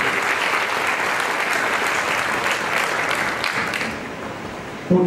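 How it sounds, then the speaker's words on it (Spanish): A church congregation applauds during a sermon, a dense steady wash of many hands clapping that carries loud and even before tapering slightly at the end. "Denle un aplauso a mí, por favor."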